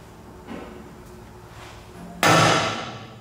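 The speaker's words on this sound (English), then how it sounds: "we're just going to go through with the center punch and make sure we get the centers of all of them" A hammer strikes a center punch against aluminium sheet during a hand-built aluminium boat job: a light tap, then one sharp, loud metallic blow with a ringing decay, close by and alone.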